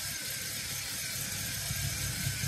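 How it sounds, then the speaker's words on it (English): A BMW M43 four-cylinder engine idles steadily, not fully warmed up, after its BMS43 ECU has been flashed; a constant low hum with hiss and no change in pitch, no talk. "So engine is idling away."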